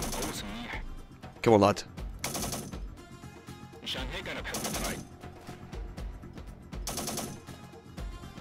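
Syrian Warfare video game combat: sharp gunshot bursts crack in irregular clusters, some close and loud, others fainter, while someone briefly speaks between them.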